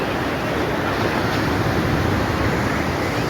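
Ocean waves at Puri beach, a continuous loud roar of surf, with wind buffeting the microphone throughout.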